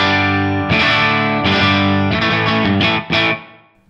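An electric guitar played through the Line 6 Helix 906 amp model gives a crunchy, distorted tone, with several chords struck and left ringing before a final cut-off, close and alone.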